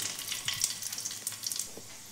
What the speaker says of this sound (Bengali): রসুনটা ভাজা হয়েছে